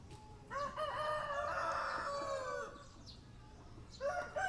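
A rooster crows loudly and up close in a long drawn-out call, with a short clucking burst near the end; it is an actively breeding bird, with steady background noise throughout.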